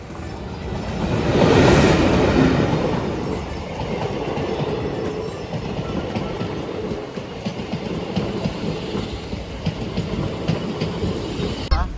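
A train rolls past on the Tirunelveli–Sengottai railway line in southern India, a loud, close passage that swells in the first two seconds, then continues as a steady rumble with rhythmic clickety-clack of wheels over rail joints.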